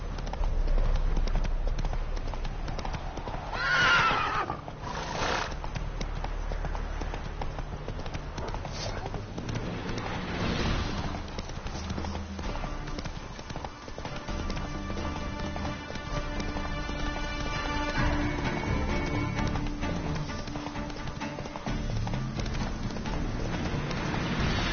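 Roach the horse gallops with steady clip-clop hoofbeats and lets out a neigh, set in The Witcher 3: Wild Hunt, with game music and a voice urging the horse on over the hooves.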